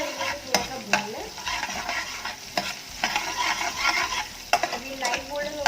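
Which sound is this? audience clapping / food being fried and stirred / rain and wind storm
food being fried and stirred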